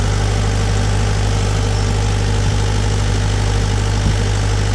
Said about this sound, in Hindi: देख सकते हैं ये वाटर लोड डालना स्टार्ट हो गया जनरेटर के ऊपर।